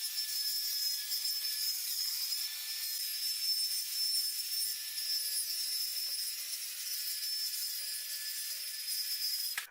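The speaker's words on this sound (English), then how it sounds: "moved to cut the big piece of plywood into segments for the ramp" A power saw cuts through a large sheet of plywood for a ramp, a continuous high-pitched whine with a steady grinding edge that holds for several seconds and stops abruptly at the end.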